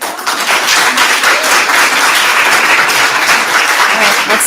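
An audience claps at a school committee budget meeting, with loud, sustained applause that fills the room evenly from start to finish.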